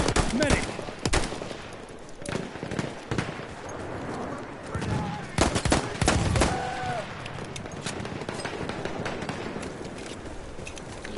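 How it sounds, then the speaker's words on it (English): Gunfire in the first-person shooter Battlefield 1, rapid sharp shots in bursts mixed with louder single pistol cracks and distant battle noise, with a voice talking faintly in places. "Gotta use your sidearm every now and again, haven't you?"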